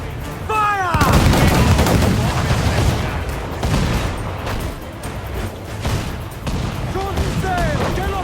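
Heavy ship cannons boom and crackle in a naval battle in Assassin's Creed 4: Black Flag, with loud, dense volleys rolling over sustained roaring noise and shouted crew voices.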